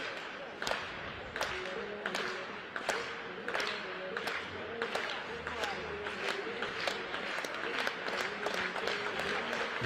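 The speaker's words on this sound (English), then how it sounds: "The crowd clapping as she chomps down the runway." Spectators clap in a steady, rhythmic beat as a jumper sprints down the runway at a U20/U17/U15 athletics championship. The sharp, evenly spaced claps carry across the stadium under a commentator's voice.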